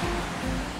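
Broadband wash of Indian Ocean surf, a steady close roar of breaking waves with no pauses and no voices.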